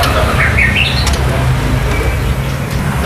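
White-rumped shama (murai batu) fledglings squawking and chirping at a bird seller's, shrill rising calls over a loud continuous background of low rumble and noise.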